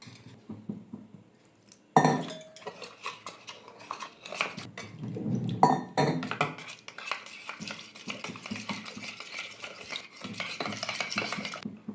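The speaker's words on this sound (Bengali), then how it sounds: "ময়দাটা গুলে নেবো জল দিয়ে" Flour and water whisked together in a bowl, a steady clinking and scraping of spoon against the vessel, close and moderately loud after a brief quiet start.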